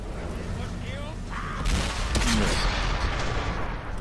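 Artillery gun in World of Tanks firing a shell: a single loud, booming shot near the middle with a rumbling tail, set against steady engine noise and someone speaking French.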